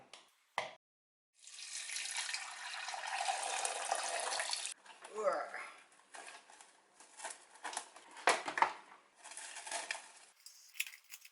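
Water runs from a tap onto flour in a kitchen, soaking it to make gluten: a steady broadband rush for about three seconds, then fainter splashing and intermittent trickles with short pauses.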